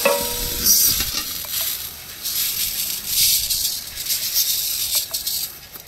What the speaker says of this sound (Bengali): ভালো করে ডালটা ভেজে নেন,